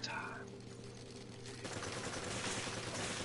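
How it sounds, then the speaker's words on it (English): Shotgun fire from the video game Resident Evil 5, a burst of repeated shots that fills the clip over a steady game backdrop, with no talking. "Shotgun time."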